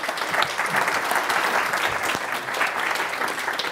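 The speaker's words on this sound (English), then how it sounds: "You clapped him as well." An audience claps together in a steady, dense round of applause that fills the room evenly, with no voices rising above it.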